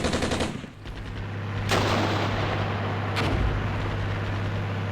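Rapid gunfire from the Armored Brigade 2 war game, with a loud burst at the start, a low engine-like drone underneath, and further sharp reports rolling through a dense, noisy battle mix, with no voices.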